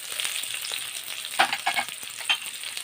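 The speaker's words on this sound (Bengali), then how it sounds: "পেঁয়াজটা একটু ভেজে নেব।" Chopped onion sizzling in hot oil in a wok after paneer was fried, a steady crackling fry with a few louder spatters and stirring scrapes, close and alone with no talk.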